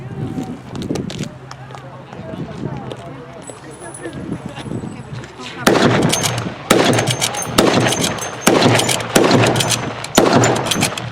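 Rapid bursts of blank rifle fire from a Mad Minute reenactment at a World War II living-history event, loud and dense crackling volleys in the second half after a stretch of crowd murmur and talk.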